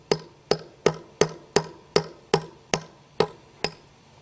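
A hammer taps a concrete anchor down into a bolt hole for a pool slide, ten crisp, evenly spaced metallic strikes in a steady rhythm, close and clear with no talking.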